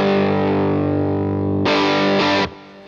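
Electric guitar playing distorted power chords in G, thick sustained rock tone ringing steadily, then a brighter, harsher strum near the end before the sound cuts off; no talking.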